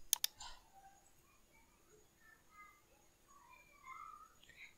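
Two quick computer mouse clicks at the very start, then only a faint room hush with no further clicks.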